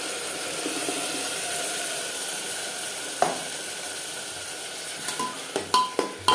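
Onions and tomato paste fry in a pan for an aloo mutton curry, giving a steady close sizzle, with a few sharp spoon scrapes and taps as it is stirred toward the end.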